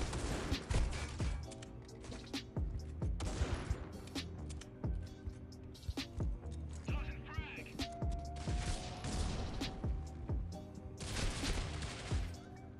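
Repeated gunfire from a first-person shooter match of Critical Ops: a string of sharp, loud cracks and shots spread across the stretch among mechanical clicks and game effects, with bursts clustering near the start and end.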